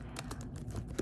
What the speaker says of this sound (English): Sorry if the typing is so loud.